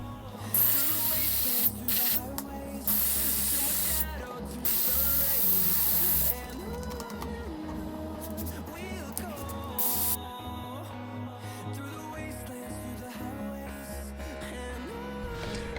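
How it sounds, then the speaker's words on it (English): A steamer hisses in loud bursts while heating old, rotted clear bra film on a Porsche 987 Cayman headlight, spraying in on-off pulses with quieter rubbing and scraping in between. "let's heat it up some more with the steamer, and we should be able to slowly work it out"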